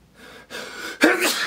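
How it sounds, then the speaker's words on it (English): Two sharp inhales building up, then a single loud, abrupt sneeze up close. "I feel like I gotta sneeze."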